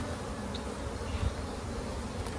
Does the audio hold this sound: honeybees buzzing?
yes